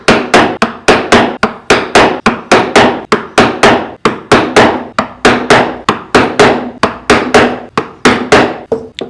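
Steady series of sharp mallet blows on a chisel cutting into wood, struck hard in the middle of the carving; loud, close, evenly spaced hits with no talk.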